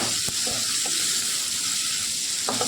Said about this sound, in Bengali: টমেটো কষা হবে, সাথে মশলাটাও একটু কষা হবে